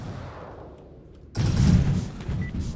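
Spaceship weapons in Star Valor fire a sudden loud burst of shots after a quiet hum. The dense crackling volley stays close and sustained, then tapers slightly.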